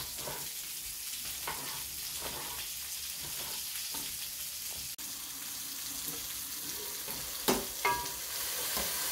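Spice paste (masala) sizzles steadily in a pan for fish curry, with scraping stirs recurring every second or so and a louder clatter near the end; no one speaks.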